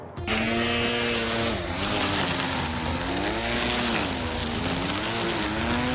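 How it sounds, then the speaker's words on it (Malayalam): A chainsaw cuts down a tree in a Canadian yard, a loud, close, steady motor whine whose pitch sags and rises as the blade bites into the wood, alone with no talk. "മരം ഞാൻ ഇന്ന് ഇപ്പം എന്തായാലും വെട്ടാൻ പോവുകയാണ്"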